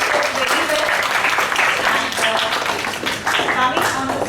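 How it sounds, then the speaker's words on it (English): An audience at a children's class event claps for the young participants, producing a dense, sustained round of applause that continues through the clip while voices speak faintly underneath. "big round of applause for the children who participated."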